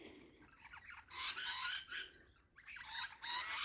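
Harsh, repeated squawks from noisy birds around a backyard feeder, several loud calls in quick succession, fairly close, with no talking.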